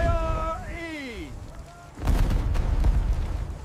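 Heavy cannon fire erupts in a dense rumbling broadside during a stormy sea battle simulation between a ghost pirate ship and a Royal Navy ship, following a shouted order.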